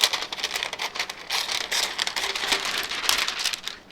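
Close crinkling and crackling of thin plastic wrap material as excess is trimmed away, a busy irregular rustle that continues throughout.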